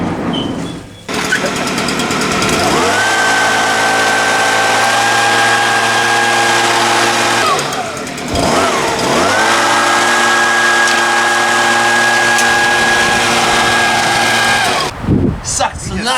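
A two-stroke vacuum runs in two long sustained bursts, its engine rising to a steady high whine and holding before winding down, with a brief pause between runs; loud and close, with voices talking over it.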